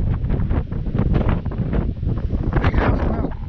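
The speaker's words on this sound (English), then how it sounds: "Freaking wind is driving me nuts." Strong wind buffets the microphone high on a mountain trail at Peaks of Otter, a continuous loud roaring rumble with gusty swells throughout and no voices.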